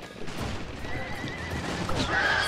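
Horses neigh amid a Total War video game battle, with a shrill whinny rising over the rumbling din of hooves and combat, continuous and mid-distance, and a voice talking faintly underneath.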